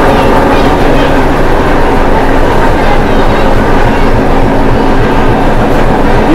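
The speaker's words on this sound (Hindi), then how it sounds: "ये इसका इंजन भाई डीजल इंजन" A loud, steady diesel train rumble on the Nilgiri Mountain Railway in Ooty, with rhythmic clacking of wheels on rails, close by and continuous.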